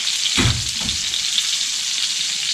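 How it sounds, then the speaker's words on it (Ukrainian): Loud, steady sizzling of cutlets frying in a pan, with a couple of brief clunks early on. "Поки обсмажуються котлетки"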